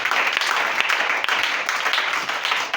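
A church congregation applauds at a Friday service, dense steady clapping from many hands filling the room close by, continuous throughout.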